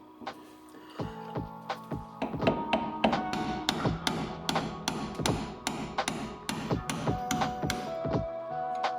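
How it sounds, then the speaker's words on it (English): Repeated metallic taps, as on a Honda Civic rear wheel hub dust cap being knocked loose during a disc brake upgrade, land in a steady run of about twenty close, fairly loud strikes with no talking. "So now we'll go ahead and pop off this dust cap."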